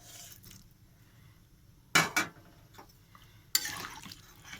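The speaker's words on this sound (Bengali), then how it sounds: "এবার ফুলকপিগুলো দিয়ে দেওয়া হলো।" Cauliflower florets go into a pot of spicy, watery vegetarian curry, giving two sharp clattering bursts against the metal pot between quiet stretches of low background noise.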